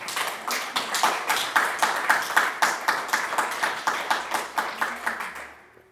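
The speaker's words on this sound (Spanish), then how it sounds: "Dar un aplauso al Señor" A church congregation claps in unison during a Spanish-language service: about twenty rhythmic, evenly timed claps at a brisk steady pace, moderately loud, tapering off and stopping near the end.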